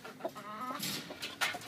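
A brooding hen clucking softly up close, a few short low clucks and murmurs over a brief moment, with no talking.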